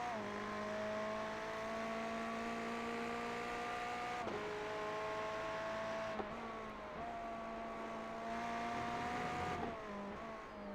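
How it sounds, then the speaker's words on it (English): A race car engine in the iRacing simulator holds a steady high-pitched whine, and its pitch drops sharply at several gear changes before climbing again, all without talk. "you'll hear the revs and the gear changes and it'll be in time with what this is saying"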